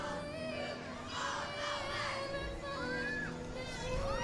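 Crowd lining the street at Division III for the Scranton Santa Parade 2022, a steady outdoor murmur of many voices with children's chatter and shouts rising above it throughout.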